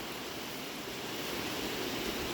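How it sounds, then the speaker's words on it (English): Heavy rain pours down on a farm barn housing cattle, a dense, steady, broadband roar of falling water with no breaks and no talk. "I don't know if you can hear it or not, but it is pouring in here."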